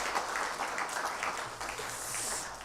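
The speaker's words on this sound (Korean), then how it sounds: "감사의 박수 하겠습니다" Audience applause at a Hanyang University chapel service, a steady wash of clapping from a crowd that holds evenly for a few seconds.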